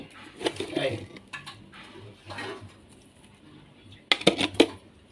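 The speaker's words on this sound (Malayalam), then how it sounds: "ഇങ്ങനെ ഇളക്കി കൊടുത്താൽ മതി." A spoon stirs powdered jaggery in an aluminium pot, producing soft scraping and a brisk burst of loud metallic clinks and knocks near the end, while a person talks through the earlier part.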